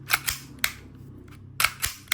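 Several sharp mechanical clicks and clacks, close up, as a small metal part is racked back and snapped forward, in a quiet room.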